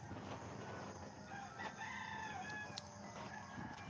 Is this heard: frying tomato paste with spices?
no